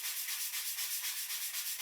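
A balsa wood carving of Minneapolis's US Bank Stadium is sanded by hand in quick, regular back-and-forth strokes, each a rasping scratch about four times a second, close and alone.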